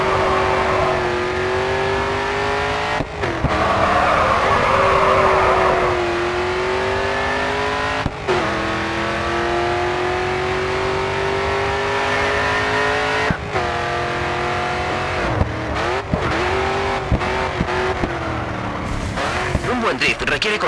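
A race car drifts in GRID 2: a sustained engine roar rises and falls with revs, broken by brief gear-change gaps and tire squeal, under the voice of a person talking.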